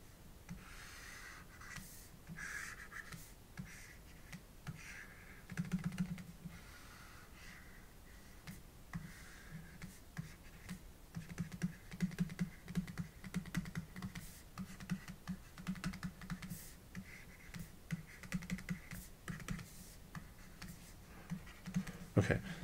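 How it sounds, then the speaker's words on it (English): Hand drawing for a calculus lesson on triple integrals: soft pen scratches and tapping strokes in irregular bursts on paper, faint and close, with quiet pauses between marks. "Let's draw the picture again."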